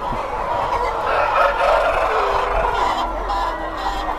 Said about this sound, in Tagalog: Oh, mabait yung mga tandang nyo,